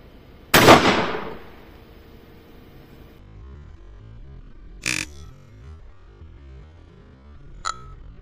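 A 12 bore shotgun fires Shaktiman bird shot outdoors at a target range: one loud, sharp blast with a decaying tail, then two fainter, brief cracks later, with no talking.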